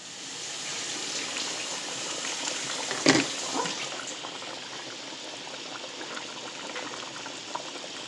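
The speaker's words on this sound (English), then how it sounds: "Put all the meat down in that pot and like I said, let it simmer." A pot of country-style ribs simmers steadily on the stove, a soft continuous bubbling hiss with one brief sharper splash or clatter partway through; no one speaks.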